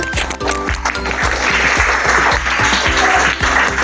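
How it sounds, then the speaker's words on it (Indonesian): A classroom group claps together in a quick, loud burst of applause, with rhythmic thumping accents running underneath and a little background chatter. "Tepuk tangan dulu dari kelompok 3."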